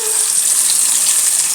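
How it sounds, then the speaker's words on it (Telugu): Jilebi fish frying in hot oil, a loud, close, steady hissing sizzle with bright fizzing crackle throughout and no talk. "ఈరోజు జిలేబీ చేపల ఫ్రై చేస్తున్నానండి"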